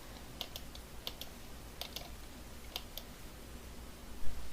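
Taps on a smartphone's on-screen keyboard while entering 119: a handful of sharp, quiet clicks in short irregular groups over a faint, steady background hum.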